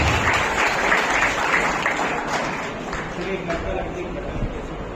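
An audience at an award ceremony claps loudly for certificate of appreciation winners being called to the stage, with sustained, dense applause that slowly tapers. Voices talk faintly underneath.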